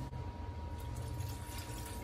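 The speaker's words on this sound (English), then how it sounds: "And now 1 cup of water." Water poured from a cup onto strawberries in a blender jar, a steady low splashing fill lasting a couple of seconds with no talk.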